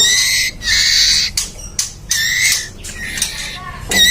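A murai (magpie-robin) songbird calls in a series of loud, close, sharp squawking bursts separated by short pauses.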